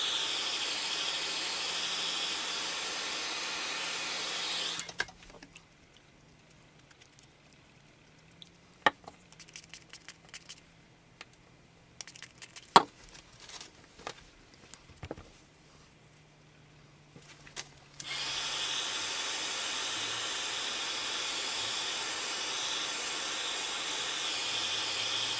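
Hair dryer or heat dryer blowing on a beeswax flower: a steady loud whooshing hiss starts, cuts off for about thirteen seconds of quiet handling clicks and taps, then resumes at full volume.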